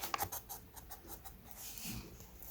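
A child coloring inside a key outline on paper with a crayon, giving close, scratchy back-and-forth strokes in short bursts and a steadier rubbing stretch, with no talking.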